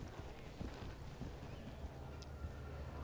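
Dressage horse cantering in an arena through a canter pirouette to the right, soft, faint hoofbeats thudding in an irregular rhythm against a low wind-like background.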